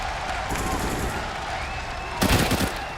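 Rifle fire in Counter-Strike: Global Offensive during a grand-final esports match on the Overpass map, with steady crowd and arena noise and a louder burst of shots near the end.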